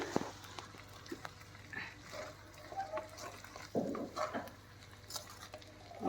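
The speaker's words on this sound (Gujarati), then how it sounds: "આમ આપણે તાવીથાની મદદથી મિક્સ કરશું પૌવા અને બટેટા બંને મિક્સ કરી દેશું" Spatula stirring poha and potatoes in a pan on a low gas flame, with soft scraping and clinking strokes, occasional louder clatters, close and moderately quiet with no talk.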